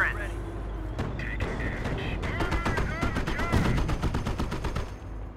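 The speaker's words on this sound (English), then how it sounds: "MG gunner up and firing!" Machine gun fire in the Company of Heroes PC strategy game, rapid bursts of rattling shots over continuous battle rumble, with game voices talking throughout.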